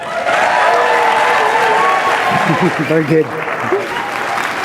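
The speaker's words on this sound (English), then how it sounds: "if you will give me a rousing round of applause" Loud, sustained audience applause and crowd noise at an Ignite Fort Collins speaker event, continuous throughout, with someone briefly speaking over it near the end.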